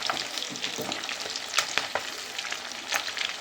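Fish kebab sizzles in a pan, a steady crackling fry with scattered sharper pops and spatters, close and continuous with no voices.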